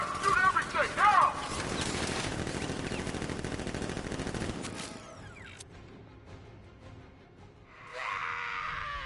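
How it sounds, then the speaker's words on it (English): Gunfire in Batman: Arkham Knight. Dense, rattling machine-gun bursts run for several seconds under shouting voices, then cut off into a quieter stretch before a new sound rises near the end. "Open fire! Shoot everything! Now!"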